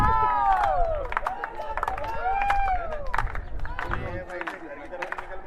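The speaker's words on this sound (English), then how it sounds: "the crowd, which is present in lesser number but quite vocal and quite encouraging" A sparse but vocal crowd at a senior national athletics championship, heard as scattered shouts, whistles and cheers of encouragement at middle distance, mixed with a few claps, under steady commentary.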